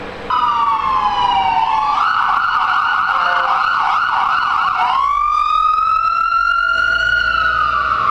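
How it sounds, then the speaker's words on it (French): Ambulance siren wailing loudly on a San Francisco street, its tone sweeping down, then switching to a fast warbling yelp before returning to a long rising wail as it passes close by. "C'est même pas un gros camion, c'était une ambulance."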